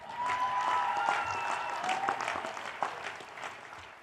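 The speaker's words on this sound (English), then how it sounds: "Can we give a big round of applause to the people who funded this entire operation?" Audience applause at a university commencement ceremony for education and journalism graduates, a dense wash of clapping from a large crowd that holds steady across the whole clip, loud and sustained, with a few brief whistles and cheers rising above it.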